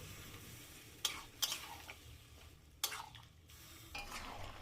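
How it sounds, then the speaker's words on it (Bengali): Marinated mutton stirred in a pan over medium-high gas flame, a soft steady sizzle under several sharp scraping clatters of a spoon against the pan. "দিয়ে দিচ্ছি ম্যারিনেট করা মাটন। এই সময় গ্যাসের আঁচটাকে মিডিয়াম টু হাইয়ের মাঝামাঝি রেখে মাটনটা কিছুক্ষণ সময় নিয়ে কষিয়ে নেব।"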